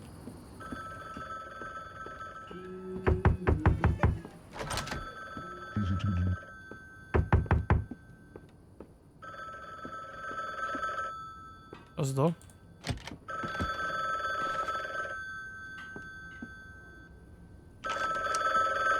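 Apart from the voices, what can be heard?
loud phone ringing, from a video game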